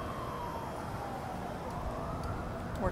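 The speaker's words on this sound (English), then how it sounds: "Toronto video without sirens off in the distance" A distant emergency vehicle siren in Toronto wails faintly beneath steady city street noise and traffic hum, with its rising tone becoming a bit more noticeable toward the end.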